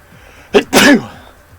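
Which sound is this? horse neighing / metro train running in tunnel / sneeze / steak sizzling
sneeze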